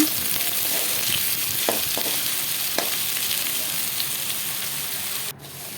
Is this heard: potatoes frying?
yes